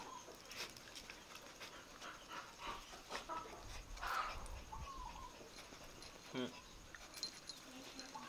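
A puppy pants rapidly and steadily close to the microphone, with soft whimpers breaking through now and then, while a person speaks quietly nearby.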